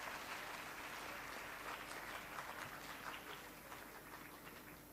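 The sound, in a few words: audience applause at a graduation ceremony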